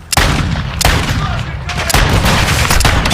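Gunfire from a revolver in Call of Duty MW2, loud booming shots opening the stretch and repeating at intervals, with dense game noise filling the gaps between reports.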